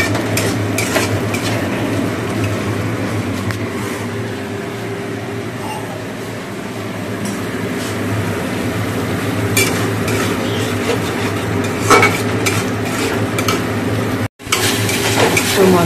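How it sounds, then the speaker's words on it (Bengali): Spice paste with ginger, tomato, garam masala, turmeric and chilli powder being stir-fried in a pan, a continuous loud sizzle with repeated scraping and clinking of the spatula close up. "মশলাটা কষে নিচ্ছি"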